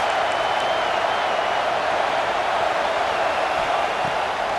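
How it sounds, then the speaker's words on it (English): Football stadium crowd noise fills the air as a steady, unbroken roar of many voices, dense and somewhat distant, holding at an even level throughout. "This crowd trying to make life miserable for this offense."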